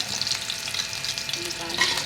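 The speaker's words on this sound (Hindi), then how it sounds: "इनको हल्का से फ्राई करना, ज़्यादा नहीं करना।" Ingredients lightly frying in a pan for Sindhi biryani, a close, continuous crackling sizzle with soft stirring, no voices.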